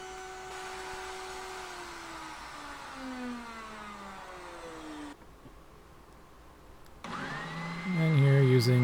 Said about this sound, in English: And here using a jig on the spindle sander to get the headstock to the right thickness.